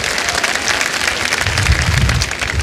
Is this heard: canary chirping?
no